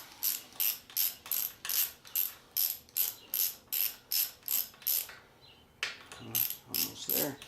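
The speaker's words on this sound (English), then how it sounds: "I'm going to take that nut out." A ratchet wrench loosens a nut inside a bicycle crank, clicking in a steady rapid rhythm of about fifteen close, crisp strokes, pausing briefly before a few more clicks resume.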